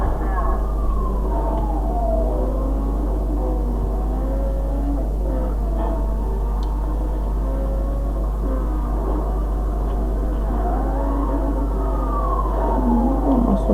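Police siren wailing in the Need for Speed Undercover racing game, a steady rising and falling tone over constant engine drone, continuous and loud throughout.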